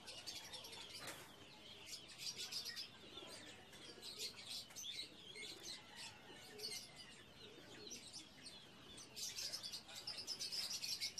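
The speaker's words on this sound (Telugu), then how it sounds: "పావురాలు ఫ్రెండ్స్, హమామా అంటారు అరబ్బీలో." Pigeons coo softly amid a busy chorus of small bird chirps and tweets at a Friday bird and animal market in Kuwait, with occasional wing flutters, fairly faint and continuous throughout.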